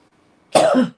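One loud, sharp cough close by, breaking abruptly out of near silence and fading within half a second.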